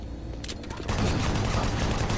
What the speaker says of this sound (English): Chain gun time.